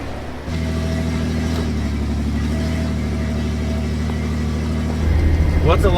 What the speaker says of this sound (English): driving an iconic vehicle up in the hills